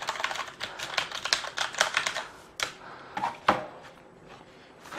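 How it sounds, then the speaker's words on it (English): Someone types on a Corsair Vengeance K90 mechanical gaming keyboard, a loud, close stream of clacking keystrokes in quick irregular bursts, with a few sharper single hits and short pauses between them. "It's quite a loud typer."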